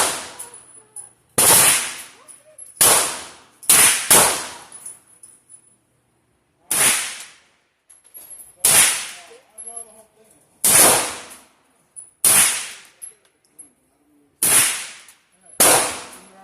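Gunfire at an outdoor shooting range from 9mm handguns and AR rifles: about a dozen loud, sharp single shots at irregular intervals, each with a short ringing echo, and quiet gaps between.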